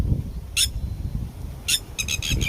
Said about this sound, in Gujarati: ટીટોળીના બચ્ચા.